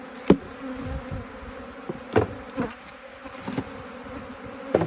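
Agitated honeybees buzz inside an opened hive box, a dense droning swarm with sharp louder bursts as individual bees fly close past, continuous throughout.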